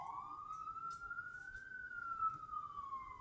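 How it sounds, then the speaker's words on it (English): A single siren wails faintly in the distance, its pitch rising and then falling in one long smooth sweep over quiet background. "You hear those sirens, y'all?"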